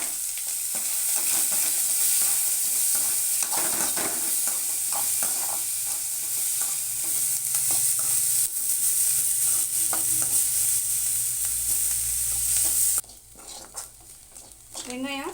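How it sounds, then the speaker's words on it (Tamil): Steady sizzling of onions sautéing in a pan until browned, with occasional stirring scrapes, continuous and close, ending abruptly near the end. "வெங்காயம் சீக்கிரமாக வதங்குறதுக்காக இதில் கொஞ்சமாக உப்பு போட்டு வதக்கலாம்."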